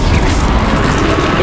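A Confringo blasting spell in the video game Hogwarts Legacy: a loud, close explosive burst with a heavy boom and crashing, crackling debris that fills the whole moment without letting up.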